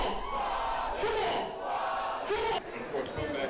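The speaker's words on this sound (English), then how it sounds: "The crowd were in high anticipation as they chanted his name before he came out" A concert crowd chants a hip-hop MC's name before he comes onstage. The rising, massed voices are distant and muffled, with swells and surges throughout.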